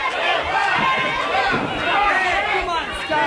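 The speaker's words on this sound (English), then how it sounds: "You can hear the crowd getting behind him." Loud, dense crowd roar from a steel cage wrestling match fills the whole stretch, a steady wash of cheering and chatter with swells around the middle and end, a voice likely speaking over it.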